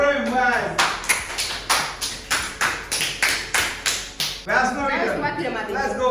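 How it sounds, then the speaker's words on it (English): Students in a spoken English class clap together for a storytelling contestant, a run of a dozen or so sharp, evenly spaced claps between stretches of talking. "Clap for him, guys."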